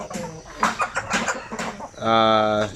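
A native Basilan chicken's harsh, drawn-out cluck rings out near the end, following a stretch of voices and background noise.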